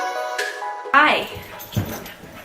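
Dogs in a home, a brief whimpering whine sliding downward followed by a short yip, close by, with a voice and other household sound around them.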